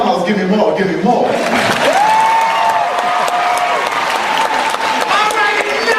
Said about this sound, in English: Well, don't be so stingy with the applause.